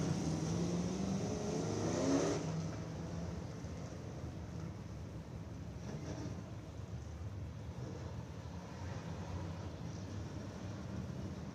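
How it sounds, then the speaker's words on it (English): Race cars at Screven Motor Speedway's Winter Freeze event, a passing engine roar rising and sweeping by early, then a steady, more distant rumble of cars circling the track. "position before we go back green flag racing here at the Davis Tire Winter Freeze."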